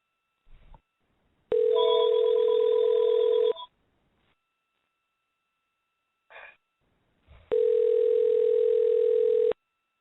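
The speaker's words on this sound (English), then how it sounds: "number dialing, but it doesn't seem like anybody's picking up right now" On a radio call-in show, a telephone sounds two steady, loud dial-tone bursts of about two seconds each, separated by silence. Short clicks and brief dialing blips come before each tone.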